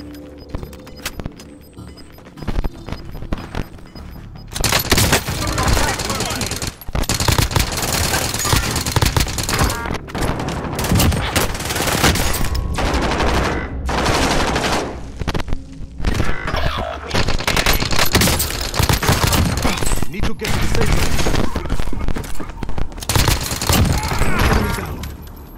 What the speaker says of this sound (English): Troops in contact. Receiving hostile fire.